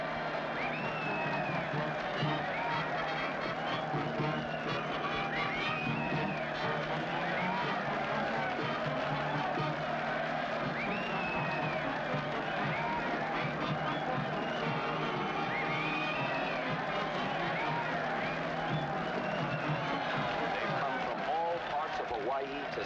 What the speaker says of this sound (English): And look at that mob waving and cheering.